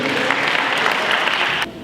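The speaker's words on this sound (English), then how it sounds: "Give him a hand clap of praise." Applause from an audience greeting a performer at a live community event, a dense steady patter of many hands that holds loud throughout and drops slightly near the end.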